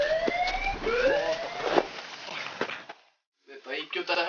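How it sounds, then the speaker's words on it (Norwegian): Rising and falling alarm siren wails, repeating sweeps at moderate distance over background noise, cutting out partway before muffled talk resumes; set during a wartime sabotage raid on the Vemork plant. "Hør, der er alarmen."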